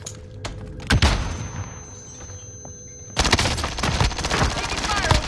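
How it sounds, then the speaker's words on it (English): Bursts of automatic gunfire in the Call of Duty Warzone video game, one sharp shot early then a dense, loud rattle of rapid fire in the second half, with faint voices beneath. "Taking fire over here!"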